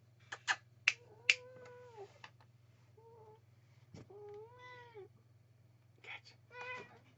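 A domestic cat meows several times with drawn-out, rising and falling cries, close and fairly quiet, mixed with a few sharp snapping clicks at the start and a steady low hum underneath.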